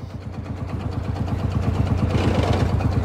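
A 1960 John Deere Lanz D2816 tractor engine idles nearby with a steady low thumping rhythm that rises a little in loudness and roughness as it runs, with no talking.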